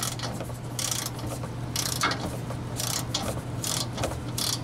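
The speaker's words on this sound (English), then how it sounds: "I got tired of ratcheting" A hand ratchet wrench turns a bolt while a rear upper control arm is swapped on a 2016-2021 Honda Civic, giving a steady series of close, rapid clicking bursts over a low hum.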